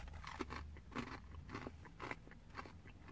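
Crunchy cheese ball snacks are chewed close up, giving repeated crisp biting crunches at an irregular rhythm roughly every half second, fairly quiet with no talking.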